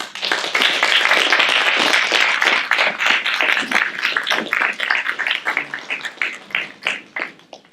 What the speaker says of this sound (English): y'all deserve a round of applause